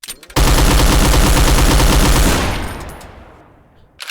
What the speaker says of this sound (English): This is the Gatling gun, which is super cool. It's a modified version of the airy gun also.